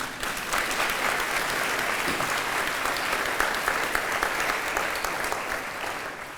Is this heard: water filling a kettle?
no